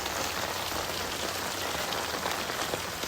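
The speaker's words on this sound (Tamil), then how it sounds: "எங்கள் ஊரில் மழை பெய்ய ஆரம்பிச்சிச்சுல." Rain pours steadily in a village near the Godavari river, a dense, even hiss of drops striking surfaces close by, with no one speaking.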